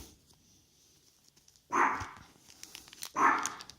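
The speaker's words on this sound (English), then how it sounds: "Sorry for the barking" A dog barks twice nearby, two short, separate woofs over a quiet background.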